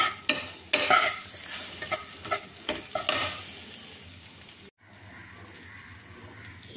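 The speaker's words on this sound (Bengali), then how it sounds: "এগুলো ভালো করে আবার সব মিশিয়ে নেড়ে নিতে হবে।" Potatoes and turmeric stirred and mixed in a frying pan, a spoon scraping in bursts over a steady sizzle, then a brief break before quieter frying continues.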